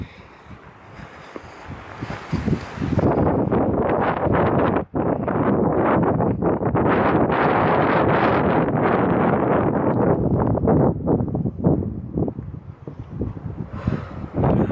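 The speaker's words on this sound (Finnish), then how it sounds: "Täällä on aikamoinen tuuli." Strong wind buffets a hilltop summit in Repovesi, Finland, roaring loudly and almost continuously across the microphone in heavy gusts, with a brief lull partway through and softer rustling toward the end.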